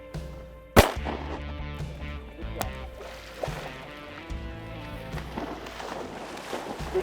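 A single sharp shotgun blast rings out across a pond during a duck hunt at a stock dam, followed by a second softer report, then a quiet outdoor ambience with faint rustling.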